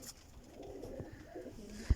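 Pigeons, flying breed birds from a loft of prized racers, coo softly and continuously at a fair distance amid low background murmur, with one short thump near the end.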